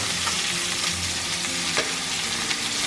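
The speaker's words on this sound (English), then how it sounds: "after you sear the meat on all sides, this is what you want" Short rib meat sears in a hot pan with a loud, dense, continuous sizzle and occasional sharper pops and spatters, heard up close.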